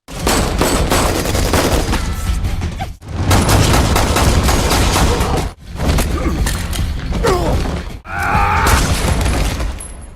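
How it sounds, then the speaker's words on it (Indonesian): Loud gunfire fills a film shootout, dense bursts of rapid shots in several long volleys broken by brief gaps, with a sharp crash or shatter near the end. "Adu tembak antara Miguel dan Antek Gomez pun tak terhindarkan."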